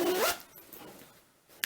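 A quick zipper pull on a knitting bag, a short bright rasp at the start, followed by quiet and a small click near the end.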